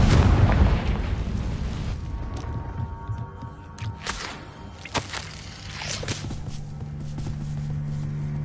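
The Confringo fire spell from Hogwarts Legacy lands with a loud booming blast at the start, followed by scattered cracks, pops and rumbling debris that fade into quieter game ambience.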